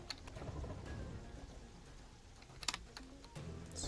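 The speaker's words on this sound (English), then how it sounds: "Sleep through this stupid storm thing." Rain and a thunderstorm in a video game, heard as quiet steady rainfall with scattered sharp drop and crackle sounds and a low rumble underneath, fairly faint throughout.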